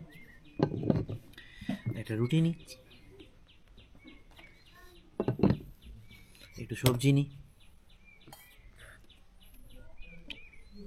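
Birds call at a mountain homestay in Icche Gaon, Kalimpong: several short, bright chirps and clucking calls come and go at moderate distance, mixed with nearby talk and light breakfast clatter.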